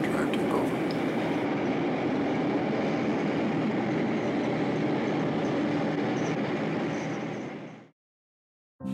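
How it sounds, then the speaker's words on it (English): A 1970 Santa Fe Super Chief El Capitan passenger train rolls into the San Bernardino depot with a loud, steady rumble of wheels and cars that cuts off abruptly near the end. "It's the Santa Fe Super Chief El Capitan arriving at the depot in 1970"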